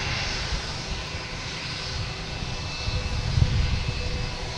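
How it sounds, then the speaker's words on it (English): A JetBlue Airbus A220 from Wilmington on arrival at Boston Logan gives a steady, moderately distant jet rumble and hiss with a thin engine whine, plus a low gusty thump near the end. "So we have a JetBlue coming in from Wilmington,"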